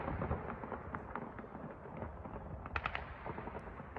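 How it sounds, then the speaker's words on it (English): Distant, steady gunfire from war coverage of Russia versus Ukraine crackles as a muffled stream of overlapping shots, with a few sharper reports standing out against a dense rumbling background. "That is steady fire."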